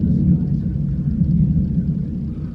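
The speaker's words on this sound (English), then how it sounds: "There's thunder, if you just heard that." A deep, low rumble of thunder over Lake Michigan rolls steadily without any sharp crack, dominating the whole stretch.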